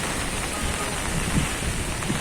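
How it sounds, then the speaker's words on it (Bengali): Rain falls steadily on a village, a dense, even hiss of drops hitting surfaces that holds at a constant level throughout, close and enveloping, with no voices. "বৃষ্টি নামছে বৃষ্টি বৃষ্টি"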